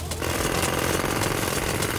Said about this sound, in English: Jackhammer!